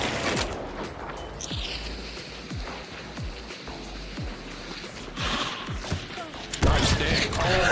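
Scattered video game gunshots crack out as sharp separate reports, several in sequence over a busy low rumble, with a louder burst near the end; no voices stand out.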